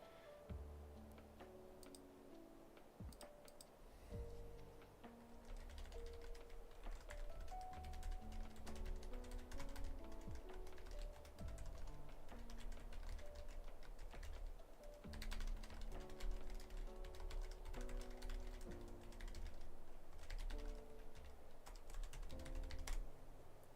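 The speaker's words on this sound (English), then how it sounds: "Can you hear me typing, guys?" Steady, fast keyboard typing close by, a continuous patter of key clicks with a faint hum underneath.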